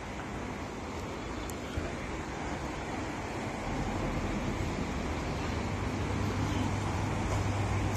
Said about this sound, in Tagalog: Napapalibutan kami ng dagat.